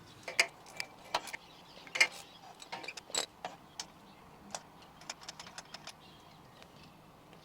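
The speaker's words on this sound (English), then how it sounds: "now I'm gonna take out the spark plugs in there" A wrench works spark plugs loose from a Porsche GT3 RS engine, giving scattered sharp metallic clicks and ratcheting ticks at an irregular pace, close by with no talking.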